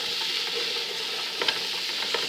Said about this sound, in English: we're just going to saute this